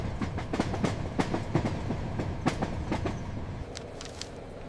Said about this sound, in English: The constant rattling of the train is starting to hurt.